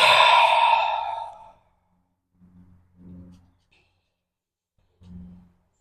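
One deep, audible exhale during a yoga flow, a long breathy sigh that fades out, followed by a few soft, faint breath sounds spaced apart in a quiet room.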